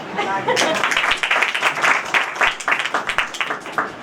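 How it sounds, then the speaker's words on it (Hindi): An audience at a church sermon breaks into scattered applause, claps building into a busy patter with some voices mixed in, moderately loud. "पहली तालियां बजाओ।"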